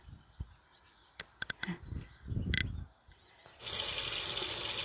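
Freshly picked red wild vegetables are washed under running water: a few soft clicks and splashes are followed by a loud, steady gush from the tap near the end.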